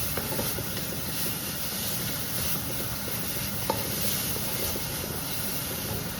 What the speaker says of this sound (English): Now we're going to add our bell pepper. Again, this has to be done on the highest heat,